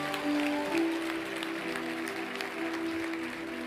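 A church congregation applauding at a sermon, a steady wash of clapping from many hands that holds at an even level, with a sustained musical tone underneath.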